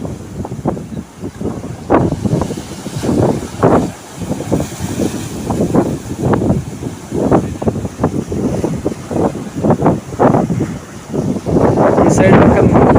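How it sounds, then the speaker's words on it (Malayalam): Sea waves surge in at sunset as high tide rises on Chembarikka beach in Kasaragod, Kerala, a steady run of rushing swells under heavy wind buffeting the microphone. "സൂര്യാസ്തമയം ആയപ്പോഴത്തേനും കടൽ നന്നായിട്ട് തിരച്ച് കയറുകയാണ്."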